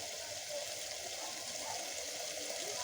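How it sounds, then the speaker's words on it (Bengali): Water pours steadily into a pot of lentil and papaya curry (masoor dal), making a constant soft rush and trickle throughout. "আচ্ছা, জল দিয়ে দেবো।"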